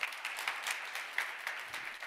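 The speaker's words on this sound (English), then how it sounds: "Round of applause." An audience at a business talk gives a round of applause: quiet, somewhat distant clapping with small peaks of individual claps standing out.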